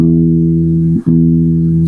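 Guitar reference tone for string 6, the low E in standard tuning: a steady harmonic-rich note sustained alone, with a brief dip and break near the middle before it resumes.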